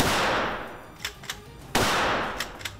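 At an indoor shooting range inside a gun shop in wartime Ukraine, two sharp gunshots ring out, the second after a pause of about two seconds, with fainter clicks and knocks in between.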